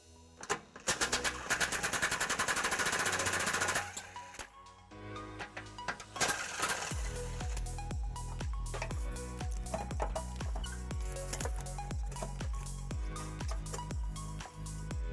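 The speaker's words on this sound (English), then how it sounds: "this bracket is held in by 2 bolts. We're going to remove those using a 12mm socket." Bolts being removed from a trailer hitch bracket on a 2005 Lexus LX470 using a 12mm socket: a rapid, even ratcheting clatter up close, then a pause and a steady series of rhythmic clicking pulses, with no talking.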